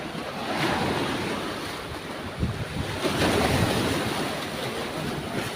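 Rough sea waves surging beside a fishing boat loaded with nets under an overcast sky, with strong wind buffeting the microphone in a continuous roar of surf and gusts.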